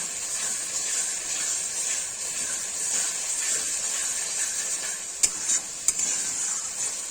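Spices for chicken curry fry in a pan with a steady, close sizzle and hiss, stirred throughout, with two sharp clinks near the end; no one speaks.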